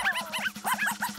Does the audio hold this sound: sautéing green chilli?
no